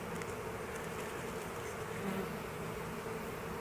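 A honey bee swarm hums in a constant dense drone on hive frames of nectar and pollen in an apiary, steady and fairly soft, with no voices.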